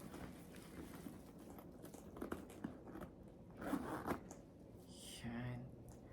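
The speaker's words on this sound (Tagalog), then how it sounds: "Yung tunog ng zipper niya." The zipper of a Coach Rowan Satchel handbag is pulled open during an unboxing, giving a few short, faint rasping zips close by. Soft talking can be heard between the pulls.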